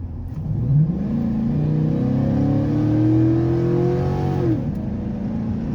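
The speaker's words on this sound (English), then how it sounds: "you actually can hear the intake noise a little bit better." A 1999-2006 Chevrolet Silverado or GMC Sierra pickup engine with a cold air intake and stock exhaust revs up through its range with an audible intake roar, pitch climbing and then dropping as it settles back to idle.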